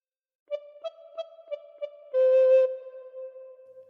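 Soprano-style recorder playing a phrase of Oh Susanna: five short, evenly spaced tongued notes on one pitch, then a brighter, louder held note that fades into a softer tail, clear and close with no other sounds.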